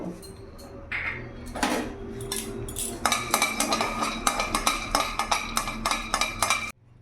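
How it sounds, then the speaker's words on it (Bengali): Peanuts dry-roasting in a hot, dry kadai over a gas flame, a metal spatula scraping and clinking against the pan in a quick, steady rattle that grows busier midway, close and fairly loud. "এবার এখানে আমি শুকনো কড়াইতে আগে বাদামটা ভেজে নেবো"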